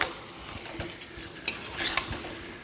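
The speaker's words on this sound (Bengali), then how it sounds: "ভালো করে নাড়াচাড়া করে" Fried potatoes are stirred into gravy in a pan: scraping spoon strokes and metallic clinks over a low sizzle, with two sharper knocks near the end.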